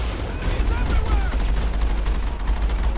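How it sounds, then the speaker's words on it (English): Sniper fire in the Mass Effect video game comes as dense, continuous gunfire under a heavy low rumble, with shots blending into a steady loud barrage and no clear gaps. "there's a couple snipers shooting at me"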